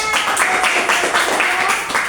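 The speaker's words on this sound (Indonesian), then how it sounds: "Oke, beri tepuk tangan." An audience claps after a rhymed verse recitation, a loud, close burst of rhythmic clapping with quick, regular beats that runs throughout without letting up.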